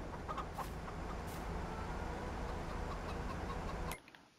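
Chickens cluck steadily in Farming Simulator 22, a dense continuous flock chatter that runs for about four seconds and then cuts off abruptly near the end, leaving near silence.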